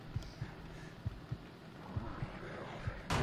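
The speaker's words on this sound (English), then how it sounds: "heartbeat for added effect" Slow, muffled heartbeat thumps pulse steadily while hiding inside a locker in the horror game The Evil Within, faint and low under a quiet ambient hum, ending with a sudden louder noise.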